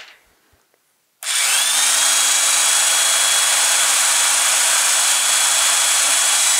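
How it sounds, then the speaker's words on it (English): An electric impact wrench powered by a Jackery 1000 portable power station starts after a short quiet moment and then runs as a loud, steady, close motor whine that holds unbroken to the end. "happen to have your electric impact wrench like this. Let's see if this would work for it."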